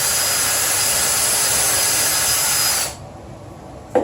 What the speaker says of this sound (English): One thing I hate about drilling holes